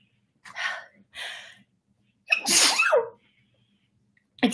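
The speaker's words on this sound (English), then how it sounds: "Oh, shoot, I'm about to sneeze, folks." A person's sneeze: two sharp inhaling gasps, then one loud, close sneeze, with a faint breath afterward.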